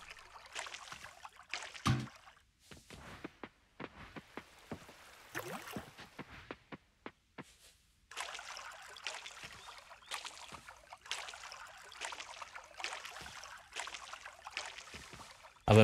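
Repeated splashy watering bursts over crops in the farming game Coral Island, short trickling pours separated by pauses, then a longer run of continuous watering sounds, fairly quiet and close.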